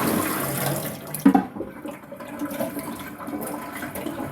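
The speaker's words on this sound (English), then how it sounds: "Dump out all the water," Old water is dumped out of a humidifier tank into a sink, a brief close gush and splash followed by softer trickling and dripping, moderately loud, with no voices.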